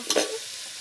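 Jackfruit vegetable for fansachi bhaji hits hot oil with a brief burst of crisp crackling sizzle, loud and close, then settles into a steady hiss with no voice over it.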